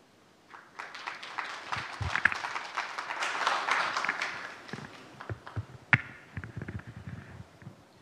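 An audience at a maritime forum conference session claps after a presentation, a lively burst of applause from many hands that swells and then thins into scattered claps.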